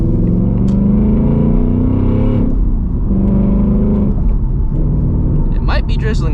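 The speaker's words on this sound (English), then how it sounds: "I love the way this car sounds, man." A 2024 Ford Mustang GT with the Gen 4 V8, fuelled with E85, rumbles loudly and close by with a deep, steady idle, swelling slightly in pitch around the middle before settling back to a low throb.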